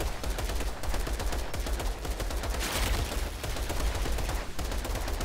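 Sustained rapid gunfire from weapons in the Outriders video game, a dense continuous barrage of overlapping shots at steady volume with no talking.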